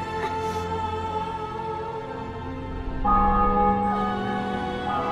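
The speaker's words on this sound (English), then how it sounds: "Bells." Bells ring out in a Witcher video game cutscene, sustained tolling tones layered over a dense musical backdrop, growing fuller and louder midway.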